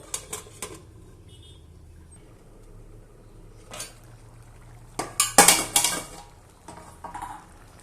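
Metal pot and lid clattering in a kitchen, a few sharp clinks early, then a louder burst of clanks as the cooking pot is covered with its lid.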